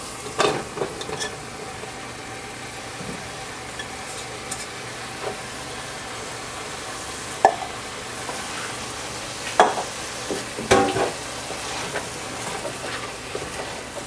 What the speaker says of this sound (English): I'm going to cook the onions and the mushrooms together.